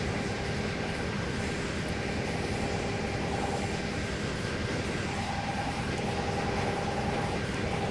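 Steady low rumble of a video game train engine pulling hard under increasing power in Trainz, a constant broad drone with faint tonal whine, no voices.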